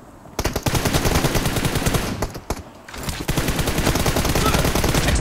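Rapid automatic gunfire in PUBG rattles almost continuously, loud and close, with a brief lull midway before the bursts resume.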